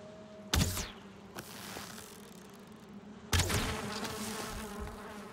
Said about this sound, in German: Das ist ein Bienennest!